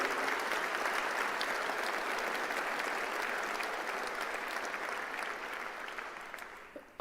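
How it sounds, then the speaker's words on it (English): An audience at a nuclear energy address applauds Energy Secretary Wright with sustained, many-handed clapping that holds steady and then gradually tapers off near the end. "give them a round of applause"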